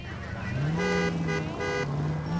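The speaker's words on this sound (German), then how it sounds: "Schnauze, hier wird nicht gehupt." Car horns honk in the L.A. Noire video game, several sustained tones sounding in short bursts over a steady low engine rumble while driving.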